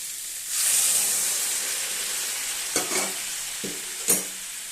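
Hot water poured into a pan of simmering fish curry gives a steady steamy hiss and sizzle lasting several seconds, with a few clinks of a utensil against the pan near the end.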